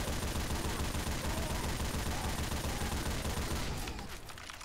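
Rapid, dense gunfire from the video game Left 4 Dead 2 during a tank challenge plays as a continuous faint barrage that tails off near the end.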